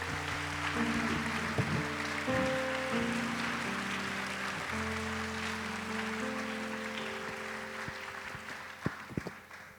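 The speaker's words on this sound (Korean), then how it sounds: "우리 뜨겁게 박수해 주시기 바랍니다." A church university-group congregation applauds warmly in steady, sustained clapping that fades slightly toward the end, with sustained keyboard chords playing underneath.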